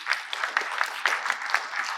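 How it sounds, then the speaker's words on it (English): An audience at a commercial real estate conference in New York applauds in a steady, moderately loud wash of clapping that lasts a couple of seconds. "Give him a round of applause."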